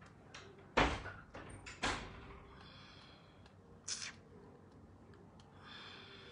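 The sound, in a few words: door being closed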